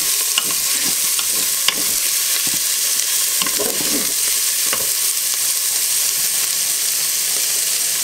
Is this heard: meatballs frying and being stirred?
yes